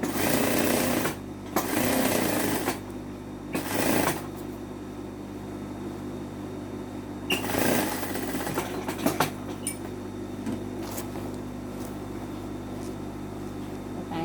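A sewing machine stitches a full patch onto the seat of a pair of trousers, running along the waistband seam toward the crotch seam in bursts of fast, close whirring separated by pauses and quieter handling noises.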